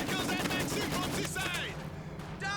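Machine gun fire in Company of Heroes 2, with a Maxim gun and other weapons rattling in rapid, loud bursts amid battlefield noise, then thinning briefly before another burst.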